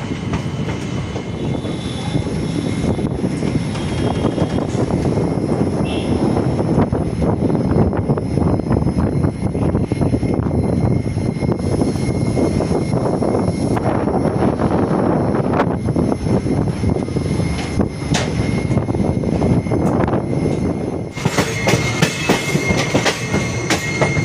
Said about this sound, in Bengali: ট্রেন এখন ঢুকছে মুঘল সরাই, যার এখন নাম হয়ে গেছে দীনদয়াল উপাধ্যায়।